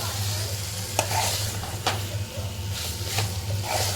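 Boiled elephant foot yam (suran) frying in a pan, with a steady close sizzle broken by a few sharp scraping stirs of a spoon against the pan.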